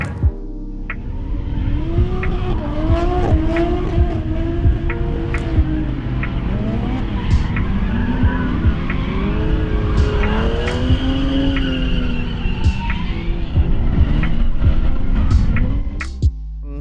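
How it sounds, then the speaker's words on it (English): A hand-controlled Ford EB Falcon drift car slides close by, its engine revving and falling while the tires squeal in long sustained howls, continuous and loud throughout. "my hand-controlled EB Falcon. I built it last year just to get started on drifting"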